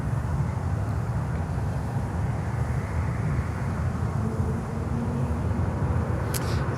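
A Frontier airliner from Washington, D.C. at Miami airport gives a steady, continuous low rumble, engine noise droning evenly throughout with no pauses and no voices.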